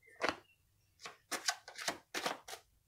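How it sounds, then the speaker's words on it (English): A deck of tarot cards being shuffled quietly, heard as several short papery riffles and flicks in quick succession, close and faint, with no voice. "One more shuffle."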